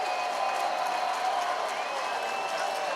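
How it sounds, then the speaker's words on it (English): A minor-league baseball stadium crowd cheers a hit for a double, a steady, broad roar held at even loudness throughout, distant and without distinct voices. "And listen to the crowd."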